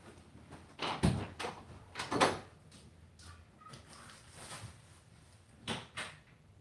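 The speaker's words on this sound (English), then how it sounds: "Oh, I think somebody's at my door." A door at home is opened and shut, giving a few soft knocks and thuds spaced over several seconds against a quiet room, with no talking.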